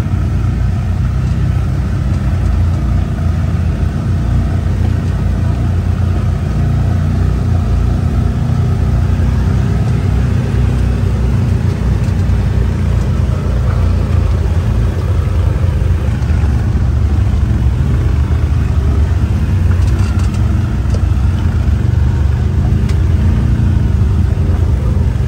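A Gen 2 CFMOTO ZFORCE 950 Sport side-by-side drives on a trail with a loud, continuous, unbroken engine rumble and drivetrain drone throughout, with no talk.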